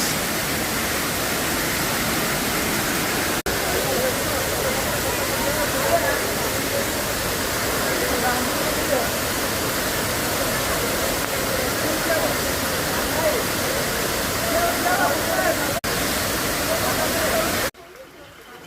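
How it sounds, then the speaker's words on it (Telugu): Rani Duduma waterfall in Odisha roars in a constant, loud rush of falling water under light rain, holding steady until it cuts off abruptly near the end. "Rani Duduma water falls"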